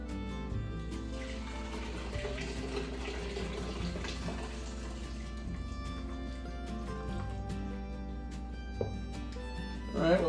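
Hot scotchie brew, a liquid with leftover grains, is poured from a pot into a container, giving a continuous, soft trickling and splashing under a steady low hum, ending with a brief louder splash.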